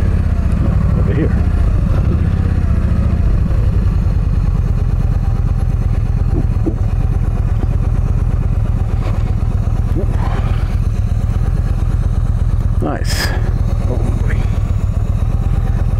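A parked motorcycle idles steadily nearby with a low, continuous, even rumble, while someone talks briefly over it near the start and faint distant sounds come and go.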